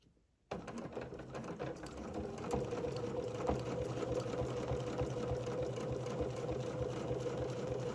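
A sewing machine stitches a fabric placemat seam, starting after a brief near-silence and then running as a steady, continuous close whir for the rest of the clip.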